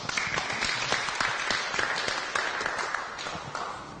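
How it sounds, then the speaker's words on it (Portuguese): An audience in an auditorium applauds with dense, continuous clapping that holds steady for the whole stretch and tapers only slightly at the end. "A nossa apresentadora, vamos aplaudir a Sandra Pereira Tio."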